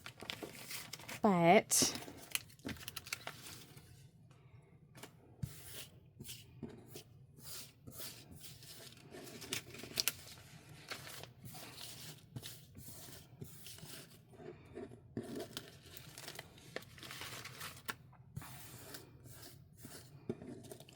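Sticker sheets being handled and peeled during a scrapbook room reorganization, a faint, quiet run of rustling, rubbing and light crinkling with a few brief louder scrapes and a single spoken word.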